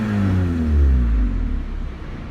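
A Honda CRX engine idling smoothly, a steady close low rumble that swells slightly partway through and then settles, with no voices.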